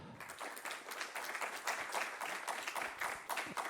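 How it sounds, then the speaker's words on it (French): The audience at a round table on bioeconomy in Reims claps steadily for the panelists, a moderately loud ripple of individual claps heard from across the room. "Je pense qu'on peut les applaudir."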